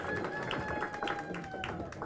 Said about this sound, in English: Guys, clap for him,